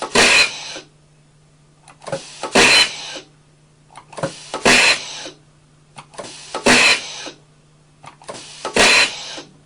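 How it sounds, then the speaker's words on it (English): An Ultra Clean tube cleaning system fires projectiles through hose and tube in a regular sequence of five sharp, loud bursts about two seconds apart, each followed by a short hiss, with a low steady hum between them. "You simply tap the foot switch and the firing sequence starts."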